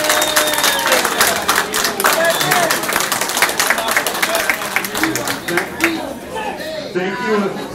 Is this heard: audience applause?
yes